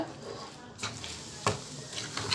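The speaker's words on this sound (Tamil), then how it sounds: "கொஞ்சம் கிளறி கொடுத்துக்கணும் இல்லாட்டி அடியில் போட்டு பிடிச்சிக்கும்" Sugar pongal being stirred in a pot on a stove over medium heat, a soft scraping and bubbling with a few faint clinks of the spoon against the pot.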